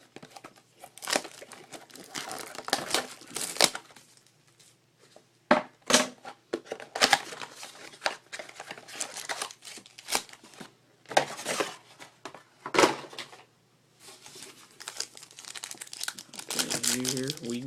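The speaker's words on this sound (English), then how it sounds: "Go ahead and open both mini boxes and just get all the cards out here." Packaging of 2012 Topps Finest baseball card mini boxes being torn open, with loud close crinkling and ripping in irregular bursts and pauses as cards are pulled out, while someone talks throughout.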